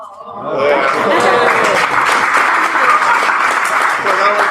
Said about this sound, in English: that was the extra clapping.